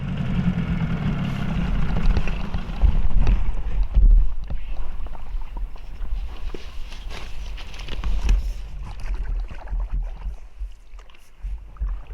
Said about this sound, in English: then we cut the engine and we just paddled.